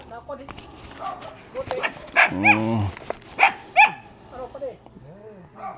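A dog barks several times at close range in sharp, loud yelps, mixed with people talking nearby and a few whimpering sounds toward the end.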